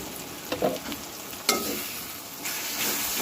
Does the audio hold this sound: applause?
no